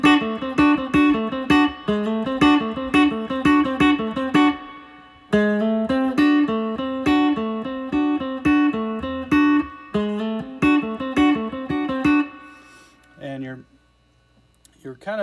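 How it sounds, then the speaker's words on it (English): Electric guitar playing a chicken pickin' exercise with hybrid-picked double stops: quick, clipped, snappy plucked notes in a fast bouncing rhythm, muted between hits, ending on a few sustained notes followed by brief talk. "you want to try and alternate your pick strokes up and down in between those hybrid picks"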